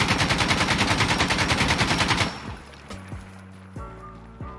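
AKM rifle with a foregrip firing full-auto in Insurgency: Sandstorm, a loud, evenly paced burst of about twenty rounds lasting two seconds, followed by ringing echoes and a few mechanical clicks.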